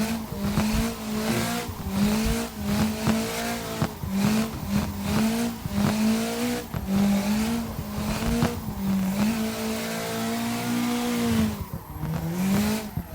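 Engine revving in a harmonic drone with repeated tire squeal as a car drifts in CarX Drift Racing Online, the pitch rising and falling with throttle, loud and continuous with no talk.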